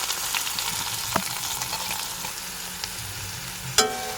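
Chopped onion and whole cumin seeds frying in oil in a wok, a steady broadband sizzle with a few sharp clicks and one louder clatter near the end, close and alone without talk.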